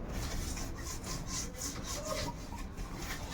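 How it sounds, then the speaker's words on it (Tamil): Light, steady scrubbing of a kitchen surface with a scrubber pad, a continuous close rasping rub with gentle rhythmic strokes and no voices. "இது மாதிரி ரொம்ப லைட்டாக வந்து நீங்கள் ஸ்க்ரப் பண்ணி விட்டுருங்க"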